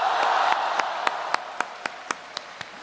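Crosstalk comedy audience in Qingdao: a short burst of applause fades into single, evenly spaced claps tapering off, with no talking.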